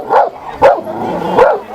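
A Macedonian shepherd dog, the Karaman breed, barks three times in deep, close, loud woofs spaced unevenly, the dog alone without talk.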